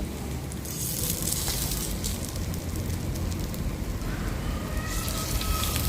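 Pumpkin leaf fritters fry in hot oil, a dense continuous sizzle and crackle that stays fairly loud and even throughout, with a few sharper pops near the end.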